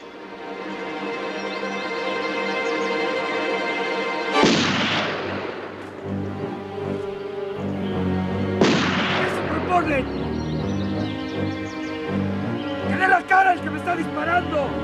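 Gunfire in a telenovela scene: two sharp, loud shots with echoing decay cut through a swelling dramatic music score, with a busy, layered sound bed around them.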